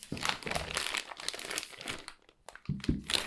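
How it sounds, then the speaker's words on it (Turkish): A new motherboard for a gaming PC being unboxed, with loud, close plastic and packaging crinkling and rustling in bursts and a brief pause near the end. "Ha, anakartımızı tabii açmadık. Onu bir açalım."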